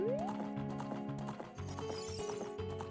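A horse in The Legend of Zelda: Ocarina of Time gallops with rapid rhythmic clip-clops and lets out a high whinny, layered over bright game music without any talking.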